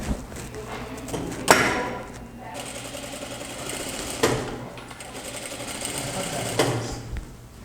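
Sewing machine stitching trousers, a loud, close, steady motor whir broken by a few sharp clacks and short pauses, with faint talk in the background.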